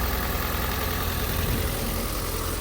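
Ford Fiesta with 86,000 miles and a rebuilt wreck body idling after starting, a steady, even engine hum close by with no voices.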